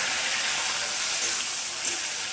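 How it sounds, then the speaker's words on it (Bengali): Prawns fry in hot oil in a wok, giving a steady, bright sizzling hiss that stays close and even throughout, with no voices over it. "কড়ার তেল গরম হয়ে গেছে, আমি সবার আগে চিংড়ি মাছগুলোকে ভেজে নেব।"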